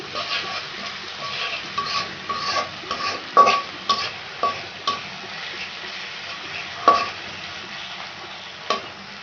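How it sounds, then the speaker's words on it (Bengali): Ginger-garlic paste fries in a pan, a low sizzle broken by repeated utensil scrapes and taps against the pan at uneven intervals, no speech. "আমি আদা রসুনটা ভালোভাবে মাখি ভেজে নিচ্ছি"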